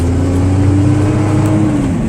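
A 1991 Dodge Ram 250 work truck with a Cummins turbodiesel pulls hard and loud up close, its steady engine drone rising gradually in pitch as it accelerates through a gear.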